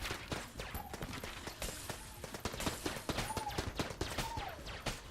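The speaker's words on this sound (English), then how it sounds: "that boy's got a full auto gun" Rapid full-auto gunfire rattles in the Enter the Gungeon video game, dense bursts of clipped shots mixed with electronic game effects and short pitched tones, steady and close, with no talking.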